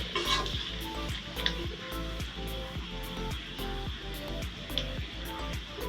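Food fries in a pan with a soft, continuous sizzle, broken by light clicks and scrapes that suggest stirring, all fairly quiet and close.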